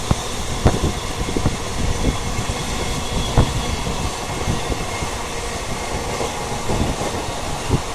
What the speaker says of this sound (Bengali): লালগোলা শিয়ালদা প্যাসেঞ্জার স্পেশাল এখন সোদপুর রেল স্টেশন স্কিপ করবে